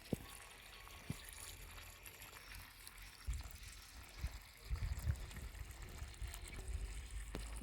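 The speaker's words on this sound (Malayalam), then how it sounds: "ഇതാ സൈഡിൽ വെള്ളം നിറയുന്ന കാണുന്നുണ്ട്" Water pouring into a vessel of paddy being parboiled, a faint trickling and gushing flow that grows stronger with low thumps and knocks.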